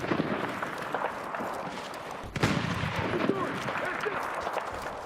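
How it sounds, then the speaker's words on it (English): Gunfire from a first-person shooter video game, a fusillade of shots with one sharp loud crack mid-clip amid continuous battle noise; a voice speaks underneath. "those bolt action shots. I don't even know where they're coming from."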